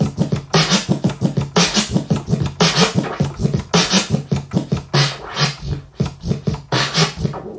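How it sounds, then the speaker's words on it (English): Rhythmic turntable scratching, a slow chirp flare with quick chirping strokes repeating in a steady drum-beat-like pattern, loud and close, with no voice. "if you do a slow chirp flare, it sounds like this."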